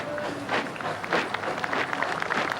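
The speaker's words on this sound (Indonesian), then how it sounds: "Tim Arjuna meninggalkan lapangan Istana disambut aplaus, Merdeka, disambut tepukan yang meriah dari undangan" Guests at an Indonesian Independence Day palace ceremony applaud as a team leaves the palace field, a steady, lively clatter of many hands at moderate distance, with faint voices mixed in.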